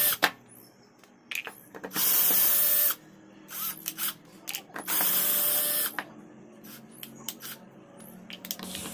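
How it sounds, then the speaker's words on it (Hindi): Screws being undone on the front cover of a home theatre speaker: ratcheting clicks and short mechanical whirring bursts, two longer buzzing stretches around two and five seconds, close and fairly loud with no talking. "तो मैं इस स्पीकर के फ्रंट कवर के सभी स्क्रू को ओपन कर लेता हूं।"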